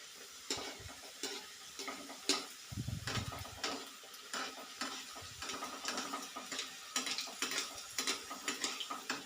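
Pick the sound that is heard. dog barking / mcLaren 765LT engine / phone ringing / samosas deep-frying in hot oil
samosas deep-frying in hot oil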